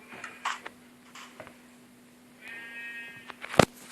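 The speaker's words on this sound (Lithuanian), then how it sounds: "Dvi avys." A sheep in Minecraft bleats in a drawn-out wavering call, preceded by faint game ticks and clicks and followed by a sharp loud click near the end.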